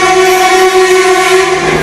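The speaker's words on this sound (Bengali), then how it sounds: "সমস্ত রকম লোকাল ট্রেন এক্সপ্রেস পাস হচ্ছে" A local or express train rumbles steadily past at an Indian railway station, loud and close, with a sustained tonal hum or horn-like drone throughout.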